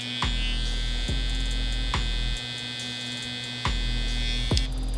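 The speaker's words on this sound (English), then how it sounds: "I will turn it on, let you guys hear what it sounds like" Babyliss Pro FX Skeleton hair trimmer switched on, a steady electric hum with a few sharp clicks and knocks from handling, close and alone.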